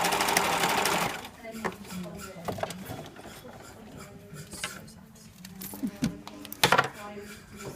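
A sewing machine stitches a corded pin tuck in fabric at an art college workshop, starting with a loud steady run that drops to softer intermittent stitching and clicks.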